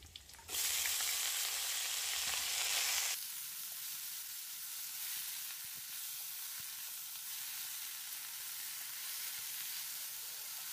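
Egg curry sizzling and frying in a pan, loud bright hiss for the first few seconds before settling into a steady, quieter simmering crackle with occasional small pops, no voices.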